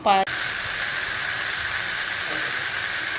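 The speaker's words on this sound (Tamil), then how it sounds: "தக்காளி நல்லா சுருள வதங்கட்டும்." Tomatoes and onions sautéing in a pan for fish curry give a steady, close hiss of sizzling that runs evenly throughout, with a brief voice at the very start.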